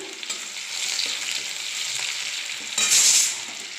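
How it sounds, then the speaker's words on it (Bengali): Crushed garlic fries in hot oil with black cumin seeds, giving a steady close sizzle that swells into a louder, brighter crackle near the end as it is stirred. "দেখো রসুনগুলো ফ্রাই হয়ে গেল"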